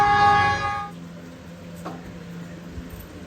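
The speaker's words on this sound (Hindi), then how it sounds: "रेलगाड़ी आ गई है।" A train sounds a loud, sustained horn that cuts off after about a second, followed by a low rumble of rail wheels and carriages rolling past, with faint background voices.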